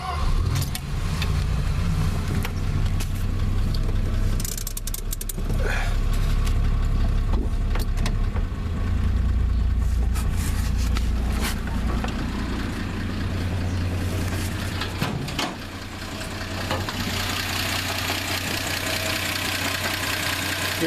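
A Chrysler Slant Six engine idles close by with a worn bottom end, main bearings knocking. It gives a loud, steady rumbling idle with a rapid rattling knock throughout, dipping briefly near the end.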